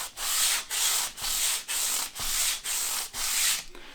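Guitar frets are rubbed with fine-grit abrasive mesh in eight even back-and-forth strokes, a close, bright scratchy hiss that swells and breaks at each change of direction.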